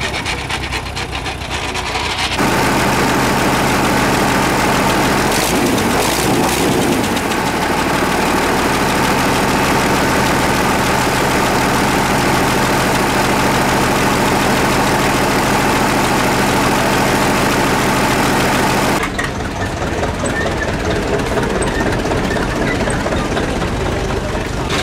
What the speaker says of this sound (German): die Traktorparade in Horní-Plana